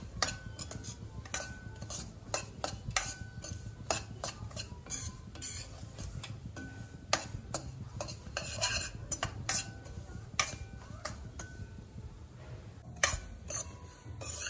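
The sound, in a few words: stirring roasting semolina with dry fruits in a pan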